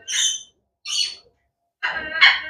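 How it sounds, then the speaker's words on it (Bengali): A rare, tame olive lory parrot gives three loud, close, harsh screeching calls separated by short silences, the last call longer and rising. "এটা অলিভ লরি রেয়ার একটা পাখি"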